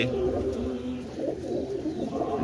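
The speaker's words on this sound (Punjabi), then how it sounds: "ਆਹ ਸਾਰੇ ਕਬੂਤਰ ਆ ਬਾਈ" Several pigeons coo in low, rolling calls close by, overlapping steadily throughout.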